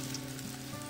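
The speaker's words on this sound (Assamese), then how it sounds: "এতিয়া তেলখিনি অকমান গৰম কৰি সয়াবিনখিনি ভালদৰে ভাজি লম" Soybeans fry in hot oil in a wok with a steady, soft sizzle that keeps going without a break, faint and close, with no talking.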